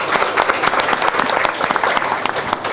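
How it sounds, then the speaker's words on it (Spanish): An audience at a business productivity event applauds a specialist and four Kaizen teams, with loud, dense clapping from many hands sustained throughout. "yo voy a pedir un aplauso para el especialista y para los 4 equipos Kaizen"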